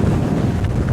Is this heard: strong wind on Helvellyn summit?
yes